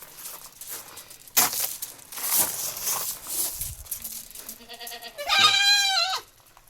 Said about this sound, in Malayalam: അങ്ങനെ മലബാരി ആട്ടുംകുട്ടികൾ, നല്ല കുട്ടികളാണ്.